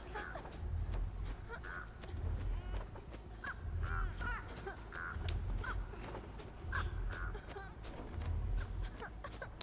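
Crows caw repeatedly around a downed, slugged survivor in a video game, giving faint, evenly spaced calls over a low ambient rumble.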